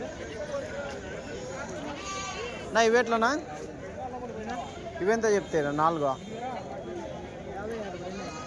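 Goats and billy goats bleat at a weekly livestock market in Kadiri, with several loud wavering calls rising above steady crowd chatter and people bargaining nearby.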